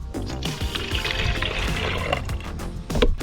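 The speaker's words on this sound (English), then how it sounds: "now I'm gonna pour this 12 ounces into the tank" Liquid humic fertilizer concentrate, 12 ounces, poured into a hose-end sprayer tank, a continuous gurgling trickle and splash with a few louder glugs, close and alone.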